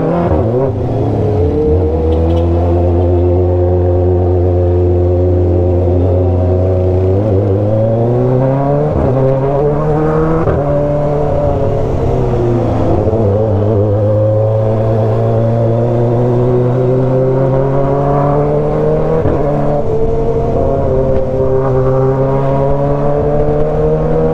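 Motorcycle fitted with a loud aftermarket exhaust, its engine revved repeatedly, rising and falling in pitch; a loud, close, continuous drone running the whole time with no talking.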